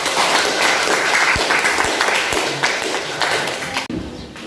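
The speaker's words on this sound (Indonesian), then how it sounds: "Kasih aplaus untuk kelompok 1." A classroom audience applauds after a group presentation, dense steady clapping filling the room close and loud for about four seconds before quickly cutting off.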